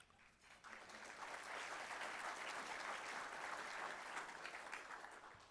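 Sustained audience applause at a San Marcos City Council meeting, a dense steady clatter of many hands that swells after a brief quieter start and holds evenly to the end.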